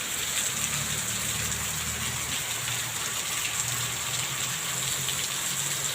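Heavy rain pours steadily, a dense continuous hiss of drops hitting surfaces close by, with a low rumble underneath.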